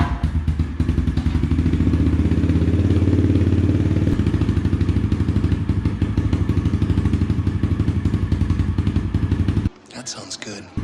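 A Yamaha TT-R 110 pit bike engine idles after a cold start, a loud, steady close-up single-cylinder putter with mechanical clatter that runs without a break, then cuts out abruptly near the end.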